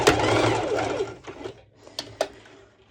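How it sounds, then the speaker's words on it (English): A Singer Heavy Duty sewing machine runs a straight stitch across thick fabric layers, a fast rattling whir at the start that slows and fades, followed by a couple of sharp mechanical clicks. "my sewing machine is really friendly when I'm adding when I'm stitching over thicker layers."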